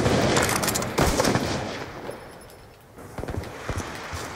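Rapid bursts of gunfire in Call of Duty: Black Ops 2 multiplayer, dense volleys crackling at the start, easing to a quieter stretch, then sharper shots returning near the end.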